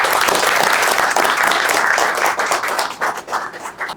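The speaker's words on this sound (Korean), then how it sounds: "박수 부탁드립니다" A lecture audience applauds steadily as a speaker is welcomed to the front, dense clapping that stays full for about three seconds before thinning into scattered claps.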